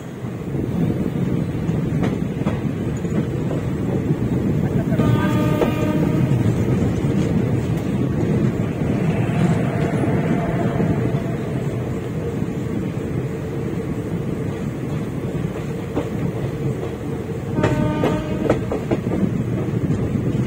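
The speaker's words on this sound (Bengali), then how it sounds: "কটক ঢোকার আগে ট্রেন পার করলো মহানদীর উপরে একটা সুবিশাল ব্রিজ" A special passenger train, number 02837 bound for Puri, runs at night near Cuttack, giving a loud steady rumble with bursts of clickety-clack from the rails and wind roar, heard from inside the carriage with no talking.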